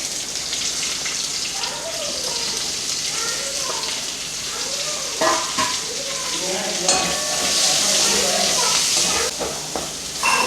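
Onions frying in a pan with browned garlic for an okra masala give a steady close sizzle, broken by scraping stirs and bursts of crackle. A voice talks over it throughout.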